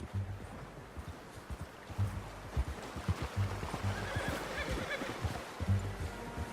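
A horse in the Red Dead Redemption 2 video game whinnies near the listener over steady clip-clop hoofbeats, which repeat in rhythmic bursts through the clip.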